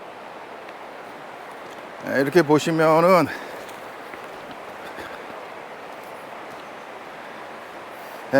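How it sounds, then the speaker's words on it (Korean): A steady broadband rush of a mountain valley stream fills the scene throughout, briefly interrupted by someone speaking for about a second. "지금 계속 물소리가 들릴 거예요."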